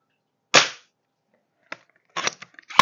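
VSR10 bolt-action airsoft rifle fitted with a tracer unit fires a single crisp, loud crack, followed by fainter clicks and rattling handling noises in a quiet room.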